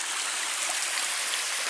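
A small stream in a Michigan lakeshore forest trickles and splashes during a wet November, producing a soft, even hiss of running water with no other sounds over it.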